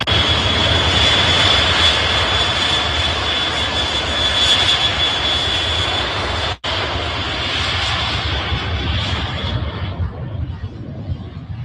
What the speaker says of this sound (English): B-52 on a training run in England